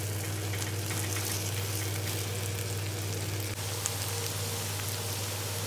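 Okra (bhindi) roasts in a pan, a constant close sizzle like light rain over a low steady hum, with one soft tap partway through.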